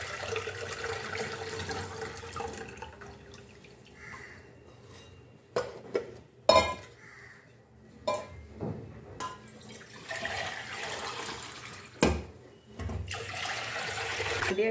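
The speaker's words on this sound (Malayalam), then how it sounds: "ഇതിലേക്ക് നെല്ലിക്ക ജ്യൂസ് ഒന്നും കൂടി അരിച്ച് ഒഴിച്ച് വെക്കാം." Gooseberry (amla) juice strained and poured into a container, a soft intermittent trickle of liquid with a few brief splashes and clinks, close by and fairly quiet, no talking.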